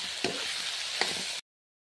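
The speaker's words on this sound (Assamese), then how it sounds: "আলু দি পেলাই মই আকৌ ভালদৰে লৰাই দিছোঁ।" Pigeon meat and potatoes sizzle in a hot pan while a spoon stirs them in two quick scraping sweeps over the steady frying hiss, before the sound cuts off abruptly.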